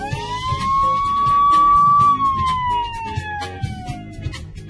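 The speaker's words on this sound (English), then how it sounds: "And these are sirens." A single loud fire truck siren wail rises, holds, then slowly falls in pitch, close by and dominating everything else.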